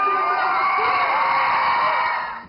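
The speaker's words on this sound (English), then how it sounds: "fans turned London's Leicester Square into a screaming frenzy." Fans scream and cheer at a film premiere in London's Leicester Square, a dense, sustained high-pitched crowd roar that fades toward the end.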